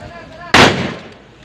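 One loud, close gunshot from a firearm being test-fired, a sharp crack that cuts in suddenly and tails off in a short echoing decay, with a faint voice just before.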